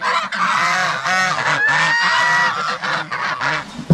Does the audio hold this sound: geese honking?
yes